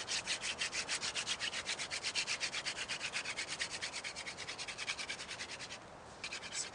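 A wooden hand-drill spindle is spun between the palms against a wooden board to make friction fire, giving a rapid, rhythmic rubbing scrape in regular back-and-forth strokes, close and steady, with a brief pause near the end.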